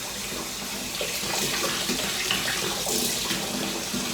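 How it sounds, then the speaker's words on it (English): Warm tap water runs steadily from a faucet into a tin bowl in a home kitchen, a continuous close splashing hiss with no talking. "I'm just gonna get a tin bowl like this and put in warm tap water is fine."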